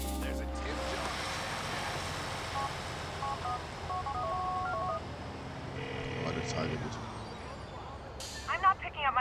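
A phone dialing tone plays in the video game GTA IV, with steady tones heard over a constant engine and traffic rumble, ending in a few short beeps.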